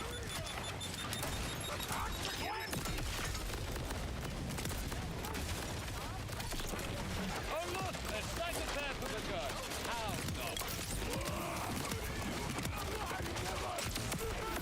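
Dense, continuous volley of spread launcher gunfire in Tiny Tina's Wonderlands, rapid overlapping blasts and impacts filling the whole stretch at steady loudness, with game effects layered throughout.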